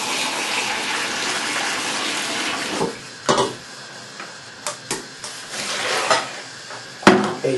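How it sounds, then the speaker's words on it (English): Water runs and splashes as starch is rinsed off rice, a continuous hiss with intermittent sharp knocks and clatters of a pot or bowl being handled. "rinse all the starch off the rice completely."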